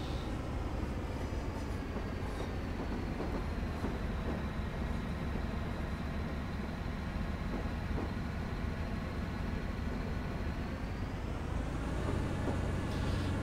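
A train climbing a mountain line on the West Highland Line South, Crianlarich to Corrour, in Train Simulator 2017, a continuous heavy rumble and rolling wheel noise with a droning tone, steady throughout.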